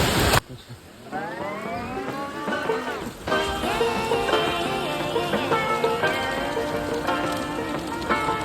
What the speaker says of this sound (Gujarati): વરસાદ તો વધી ગયો ધીમો ધીમો આવતો તો થોડોક ફાસ્ટ થઈ ગયો છે